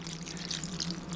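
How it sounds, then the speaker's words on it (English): Evaporated milk pours into a crock pot for mac and cheese, producing a steady, soft, hissing liquid wash that is faint and continuous throughout. "After I add the butter in, I'm going to pour in my evaporated milk."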